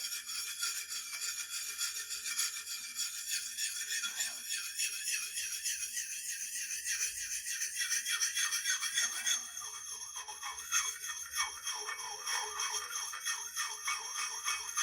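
Steady rhythmic scraping of a blade stroked back and forth across an Arkansas sharpening stone, a fine hissing rasp repeating at an even pace.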